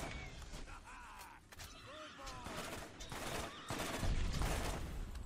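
Borderlands video game gunfire, with rapid bursts and shots over a busy game soundscape of whooshes and effects, moderately loud and continuous throughout.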